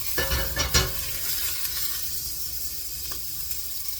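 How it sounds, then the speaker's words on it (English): About a tablespoon of butter melts and sizzles in a hot pot at the start of a creamy asparagus soup, giving a soft, steady crackling hiss with a few brief clinks early on and no talking. "cut about a tablespoon of butter right here and put it in,"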